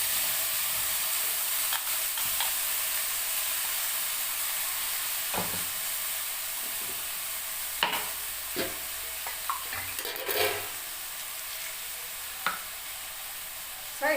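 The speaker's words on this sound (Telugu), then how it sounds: "ఆ ప్యూరీ వేసేస్తాను." Tomato puree frying in a curry pan with onions, a steady close hiss and sizzle throughout, broken by occasional clicks and scrapes of stirring, with no voices.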